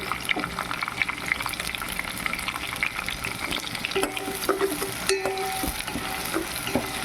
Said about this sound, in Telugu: ఎర్రగడ్డ కరివేపాకు వేసుకున్నాను ఇది బాగా వేగనిద్దాం